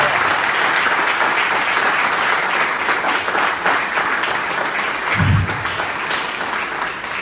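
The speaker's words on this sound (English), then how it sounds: "Let's give a round of applause." A round of applause at a reception in downtown Topeka, loud, dense clapping from a gathered crowd that holds steady throughout, with a brief low thump partway through.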